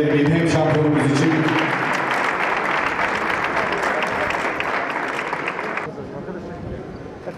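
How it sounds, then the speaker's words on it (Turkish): Strong applause from an indoor audience greets the photo contest champion at an awards ceremony for a national photo safari competition in Mardin, a loud, dense clatter of clapping that begins at once and slowly thins toward the end. "Bir güçlü alkışla rica edebilir miyim hem şampiyonumuz için"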